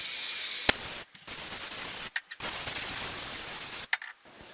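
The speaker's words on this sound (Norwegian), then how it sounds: "Og så sprayer jeg lim altså på halve." Aerosol spray adhesive hisses onto quilt fabric in three steady bursts of roughly a second each, separated by brief pauses with a small click, loud and close with no talking.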